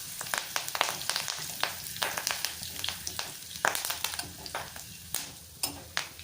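Curry leaves hitting hot oil in a pan with drumstick curry spices, crackling sizzle punctuated by frequent sharp spatula scrapes and clicks in an uneven rhythm, close up and without speech.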